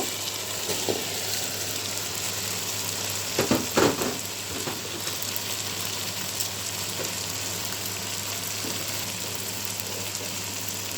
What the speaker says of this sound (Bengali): মাংসটা কষানো হয়ে গেছে এখন আমি চালটা দিয়ে দিব